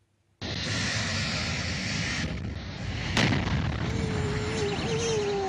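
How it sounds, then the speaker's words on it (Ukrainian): A sudden, loud, sustained roar of seven powerful blasts in central Kropyvnytskyi, Ukraine, starts and rumbles on, with a sharp crack partway through and a rising whine near the end. "Один за одним сім потужних вибухів пролунали практично у середмісті."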